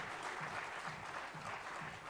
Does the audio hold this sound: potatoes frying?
no